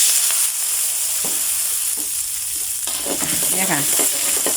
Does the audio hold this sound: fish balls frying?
yes